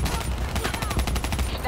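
Soldiers in the video game Call of Duty Black Ops 3 lay down sustained automatic gunfire, a dense, rapid stream of loud shots with no break across the short stretch.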